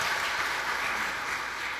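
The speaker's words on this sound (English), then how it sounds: "Let's give another round of applause for fun things happening in town this weekend" Audience applause filling a talk on public art and parking spots taken over in Philadelphia, a steady broadband wash of many hands clapping at moderate distance, even and sustained throughout with no voices.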